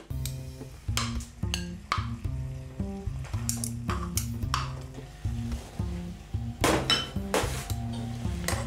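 Browned beef for stroganoff lifted from a sizzling pan onto a plate, with metal utensils scraping and clinking repeatedly against the pan and dish over steady frying.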